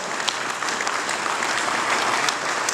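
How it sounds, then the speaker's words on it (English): A crowd gives a round of applause for the Greater Columbus Sports Commission at a morning sports VIP event: dense, steady clapping from many hands, fairly loud and sustained throughout, with no voices over it. "a round of applause to the Greater Columbus Sports Commission"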